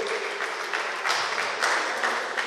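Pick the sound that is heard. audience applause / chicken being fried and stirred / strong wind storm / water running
audience applause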